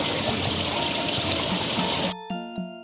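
A river flows steadily at close range, a continuous rushing wash of water that cuts off abruptly near the end, leaving a few faint tonal sounds.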